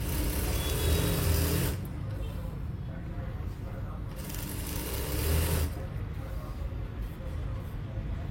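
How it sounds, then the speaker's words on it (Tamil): A sewing machine stitches saree falls with a loud, continuous mechanical whir that holds steady and rises and falls slightly in speed over several seconds. "நார்மலாக நீங்கள் எப்படி தைக்கிறீங்களோ அதே போல் வந்து தைச்சிட்டு வாங்க"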